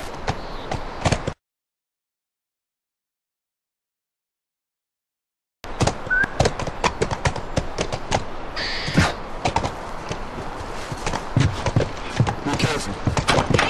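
Horse hooves clopping in the video game The Last of Us Part II near a ranch, quick rhythmic hoofbeats with clatter before a silent gap, then resuming busier and louder.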